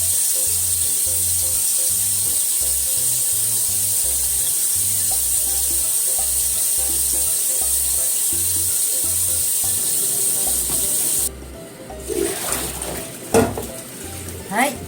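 Mugwort leaves rinsed under steadily running tap water at a sink, a continuous splashing stream that cuts off near the end, followed by a few louder clattering handling sounds.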